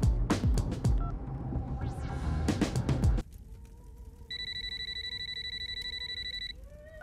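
A telephone rings in a thriller film, a steady electronic trill that repeats for about two seconds and follows a burst of loud music and clatter.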